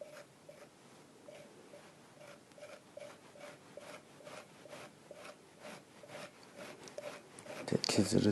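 A clay teapot body being shaved smooth with a tool, down toward the lower body, giving steady repeated scraping strokes, soft rasping rubs in a regular rhythm, close and moderately quiet, louder handling at the end.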